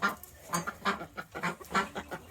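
Chickens cluck and squawk in a rapid run of short, close calls, fairly loud and uneven in rhythm, heard on a small farm in the morning.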